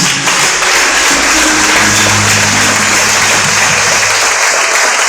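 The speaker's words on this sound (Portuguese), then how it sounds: "Aplauda Jesus." A church congregation breaks into loud, sustained applause, a dense continuous wash of clapping that fills the room with no talk on top.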